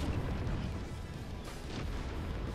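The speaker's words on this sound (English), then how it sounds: "Come on, Turpos, aim the cannons." Cannons firing from flying pirate ships in a battle game, a dense rumbling barrage of booms and bursts running continuously and loudly throughout.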